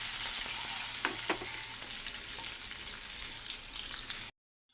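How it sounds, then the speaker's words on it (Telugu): Eggs frying slowly in a pan for egg biryani give a steady, close sizzle with a few soft stirring scrapes, ending abruptly in silence. "ఇప్పుడు ఎగ్స్ని అయితే దీనిలో యాడ్ చేసేస్తున్నానండి. సో వీటిని అయితే మనం స్లోగా అయితే ఫ్రై చేసుకోవాలండి"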